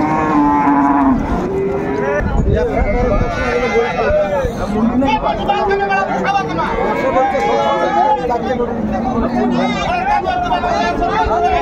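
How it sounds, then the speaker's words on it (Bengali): A Mundi breed cow and her calf moo repeatedly and loudly at a livestock market, the calls mixed with crowd chatter and people talking nearby. "এটা হচ্ছে গাভী এটা হচ্ছে বাছুর বাচ্চা"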